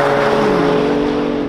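A Porsche 911 Turbo accelerates hard in a drag race, a loud, steady engine roar with rising tonal whine sustained throughout, no voices.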